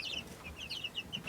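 Light Brahma chicks peeping in a brooder, a series of short high chirps scattered irregularly over a soft background, close and fairly quiet, no talk.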